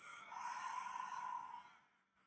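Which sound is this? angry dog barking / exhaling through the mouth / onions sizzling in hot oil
exhaling through the mouth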